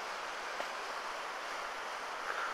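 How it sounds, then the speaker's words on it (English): Steady broadband rush of a very full, fast-flowing stream in flood, continuous and fairly close, with no talking over it. "I can just hear how much water going down here."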